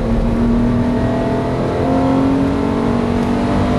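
Porsche 993 RS with a 3.8-litre engine pulling hard on the Magny-Cours circuit: a loud, steady, close engine roar with sustained tone throughout, no voices.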